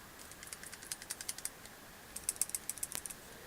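Faint, quick metallic clicks and ticks in two short bursts come from the loose, stripped pivot of a CRKT Lake 111 folding knife as it rattles with blade play, close up and quiet.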